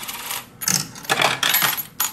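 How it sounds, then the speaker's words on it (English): Coins dropping into a Japanese pachislo slot machine, several bright metallic clinking bursts in quick succession at close range, separated by brief pauses. "We have to put more coins in."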